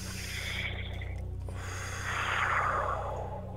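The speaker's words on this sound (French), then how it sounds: "Une respiration." A single deep breath, a slow inhale followed by a longer exhale, close and quiet with nothing else around it.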